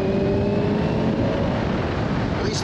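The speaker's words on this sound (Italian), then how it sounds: "il motore salga di giri un po' più velocemente e il 4 cilindri comincia ad urlare" A 2023 Kawasaki Ninja 1000 SX four-cylinder engine accelerating in sport mode, a loud, close, throaty engine note with a rising tone held steadily through the short stretch.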